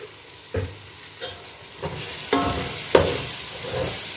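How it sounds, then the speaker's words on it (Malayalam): Chili and coriander spice powders roasting in a pan for Arabian-style chicken majboos, a soft sizzle broken by periodic scraping stirs of a spoon every half second or so, close and moderate in level. "നന്നായി ഒന്ന് റോസ്റ്റ് ചെയ്തെടുക്കാം"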